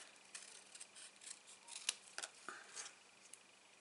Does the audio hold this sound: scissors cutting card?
yes